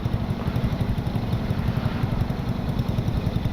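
A motorcycle idles at a stoplight, its steady low engine rumble running continuously and fairly loud close by, with a constant even throb and no voices.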